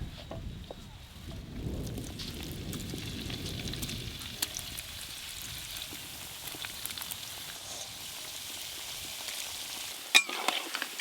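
Cauliflower popcorn pakora frying in hot oil gives a soft, steady sizzle with scattered tiny pops and a brief low stirring rumble early on, continuing quietly without any talk.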